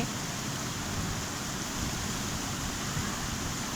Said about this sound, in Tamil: உடனே மழை பெய்ய ஆரம்பிச்சிருச்சு